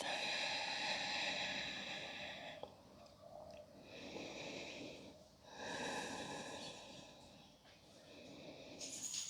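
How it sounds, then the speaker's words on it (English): Slow, audible breaths, heard as about three soft, close inhale-exhale cycles in a quiet room, come from a person holding downward facing dog during a yoga session. "Feel, hear, and sense your breath."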